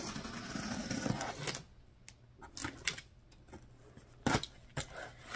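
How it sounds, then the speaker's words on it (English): Scissors snip and cut into a small cardboard box, sounding as a string of close, crisp clicks and scrapes with quiet pauses between them. "My scissors, and we'll open it up."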